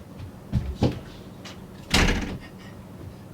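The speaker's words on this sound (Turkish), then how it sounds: "kapıyı kapatıp geliyorum" A door is shut in a room before a game of Agar.io, with a few light handling knocks and then a louder thump as it closes, followed by a short close bump at the end.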